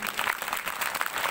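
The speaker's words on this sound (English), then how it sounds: "So they deserve a big round of applause." Applause from an audience at a feast day celebration, a dense, steady patter of clapping filling the whole short moment at moderate loudness.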